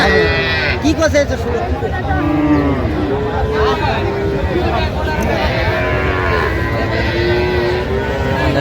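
Cows and calves at a rural cattle market in Dinajpur, Bangladesh, mooing repeatedly and loudly up close, long drawn-out calls overlapping one another, with crowd chatter and voices in the background.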